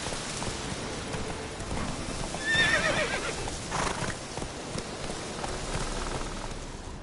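Roach, the horse in The Witcher 3: Wild Hunt, gives a clear whinny near the middle over steady galloping hoofbeats and a soft rain-like hiss, with no one talking.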